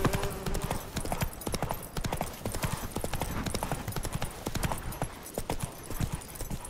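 Roach the horse gallops in The Witcher 3, steady rapid hoofbeats pounding close and loud for the whole stretch, with faint game sounds underneath and a brief whinny near the start.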